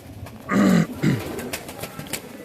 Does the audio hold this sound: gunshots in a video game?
no